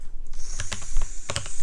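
Quick, close keystrokes on a computer keyboard while typing code, a handful of crisp clicks in two short bursts over a soft background hiss.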